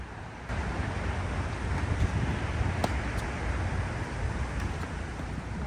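Steady wind blowing across an outdoor tennis court, a broad continuous rushing roar with gusty buffeting against the microphone, loud and unbroken throughout with no talk.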